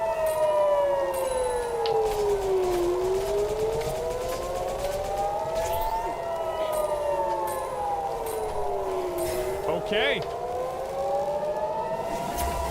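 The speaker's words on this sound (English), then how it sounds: "We're hearing sirens." Air raid sirens in a video game rise and fall in slow overlapping wails, loud and sustained throughout, with a brief spoken word partway through.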